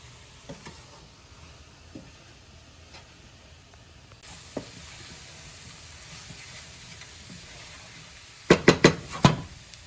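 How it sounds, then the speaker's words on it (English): Garlic cloves and black beans for sweet potato enchiladas cook in a pan with a faint steady sizzle and scattered light taps, then a burst of loud clattering and scraping near the end, with no talking. "So now we're gonna add 3 cloves of garlic. In you go. And the black beans."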